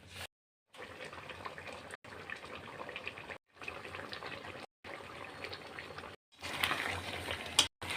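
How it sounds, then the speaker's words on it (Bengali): Water is poured into a pan of mustard paste and spiny gourd, a steady close splashing gush broken by a few brief cuts, with no voices over it. "সর্ষের সাথে দিয়ে অল্প দিয়ে দেব জল"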